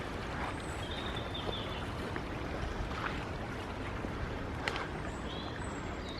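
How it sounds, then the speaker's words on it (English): Two small streams of water meet and flow together at a farm, giving a soft, continuous outdoor trickle and babble with faint splashes and birdsong in the background. "So these two streams of water meet here."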